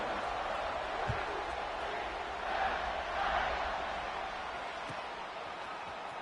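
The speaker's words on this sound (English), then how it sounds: "this crowd now ready to get behind them" Distant football stadium crowd at a Houston vs UCF kickoff, a faint, steady roar of cheering that swells briefly midway before settling, with a commentator talking over it.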